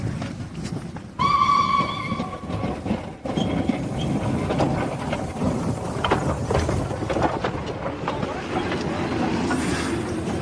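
A train rumbles steadily with a loud, clattering roll while a bright steam whistle sounds once, briefly and close, near the start. The rumble continues alone afterward.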